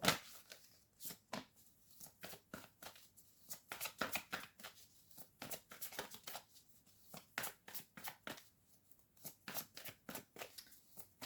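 Tarot cards are shuffled by hand in repeated crisp riffling bursts, close and fairly loud, with a steady rhythm of quick flicks and brief gaps between them.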